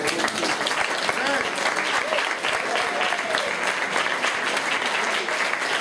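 A crowd claps steadily and loudly at a dance festival's farewell evening, sustained applause filling the whole stretch without a break.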